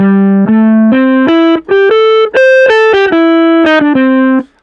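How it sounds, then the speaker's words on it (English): A stepped sequence of sustained notes plays through a distortion effect, giving each tone a buzzy, harmonically rich edge, loud and close. "You've got distortion."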